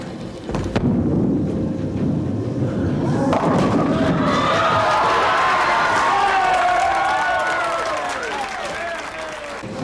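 A student crowd at a bowling lane roars en masse as the ball is released, a loud swelling wall of cheers, whoops and whistles that builds after a few sharp knocks and holds for several seconds.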